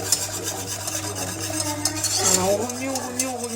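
A spoon works through lemon cream thickening in a saucepan over high heat, giving soft, irregular scraping and stirring noises against the pan walls over a faint steady hum.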